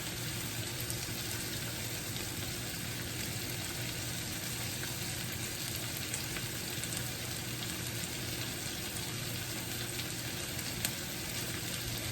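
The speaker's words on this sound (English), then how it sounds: "when my steak is cooking" Steak seasoned with salt, pepper, seasoning salt and garlic powder sizzles steadily while frying in a pan, a dense, even crackle that runs without a break from start to finish, close up and with no talking.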